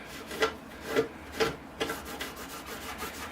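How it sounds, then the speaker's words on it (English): A rag rubbing black tar into raw wood on a Portulacaria afra bonsai, soft dry scuffing strokes in a loose rhythm of about four firm swipes followed by quieter rubbing, close up with no voices. "I rag on the black, and you just rub it in"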